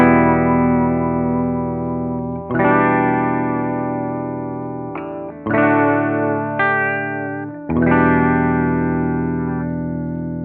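Electric guitar chords ring out through a Chase Bliss Warped Vinyl MK2 pedal set to strong vibrato, giving a deep pitch warble. Four sustained strums, each decaying slowly, with reverb and no talking.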